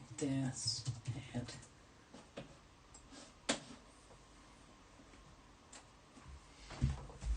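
Light tapping on a keyboard to enter a search, scattered soft clicks coming in short bursts, with someone talking over parts of it.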